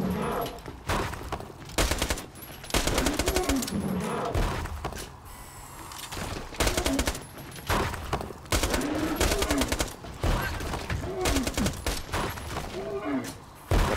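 Video game gunfire crackles in dense rapid bursts with short pauses between them, loud and close, while people talk over parts of it.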